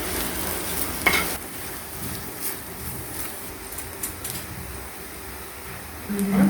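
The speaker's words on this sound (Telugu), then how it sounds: "ఇట్లా ఫ్రై చేసిన తర్వాత అలాగే కొత్తిమీర వేసి ఫ్రై చేయాలి." Potato bonda batter with coriander leaves fries in a pan with a soft steady sizzle and occasional stirring scrapes, fairly quiet, with brief faint sounds near the end.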